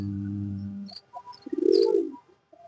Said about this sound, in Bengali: হ্যাঁ, 36 পিস আছে আমার কবুতর